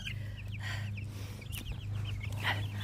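Jersey Giant chickens in a flock cluck and chatter in short, repeated calls over a steady low hum, close by and fairly loud, with no talking.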